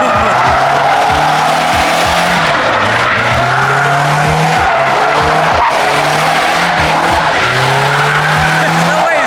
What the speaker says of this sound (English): Look at these dudes swinging the Miatas.